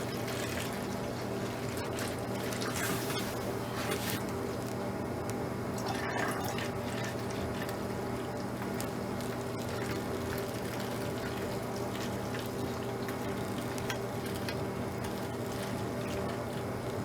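Water pours from a container into a spray bottle, a soft continuous trickle and splash heard close up over a steady background hum, without any talking.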